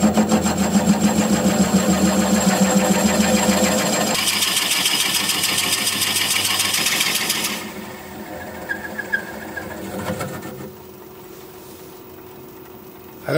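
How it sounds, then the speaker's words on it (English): A drill bores a deep 1 1/4 inch hole into a redwood vase spinning on a wood lathe at about 400 RPM, a loud steady machine whir and grinding that shifts in pitch partway through, then fades to a quieter hum. "I'm going to drill a 1 1/4 inch hole, about 6 inches deep, which will take me to the bottom of the vase part"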